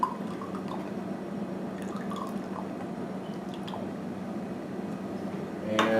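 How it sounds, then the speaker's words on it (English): Water running and dripping as a pH meter probe is rinsed off, a steady splashy trickle close by with a louder gush right at the end. "I'm going to rinse this off now."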